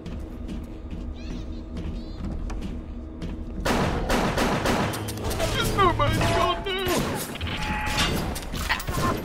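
Rapid machine gun bursts in the video game BioShock, starting suddenly after a quieter stretch and continuing loud and dense amid game noise and chaotic creature screeches.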